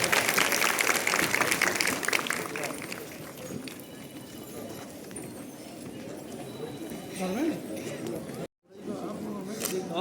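A crowd claps to welcome a central minister at a health mission award ceremony in India: dense, sustained applause mixed with chatter and a voice over a loudspeaker, fading and then briefly cutting out.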